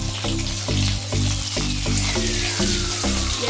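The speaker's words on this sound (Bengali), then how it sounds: "পেঁয়াজটা ভাজা ভাজা হবে।" Onion paste fries in hot white oil with bay leaf, dried chilli, garam masala and cumin paste for dum aloo, giving a loud, steady sizzle broken by regular stirring scrapes, with no talking.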